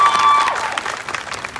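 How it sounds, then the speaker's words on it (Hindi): A short burst of clapping and light cheering from an audience at a motivational comedy show, brief and fading within a couple of seconds. "ये लेकर आया भाई, मुझे इसके लिए ताली बजाओ।"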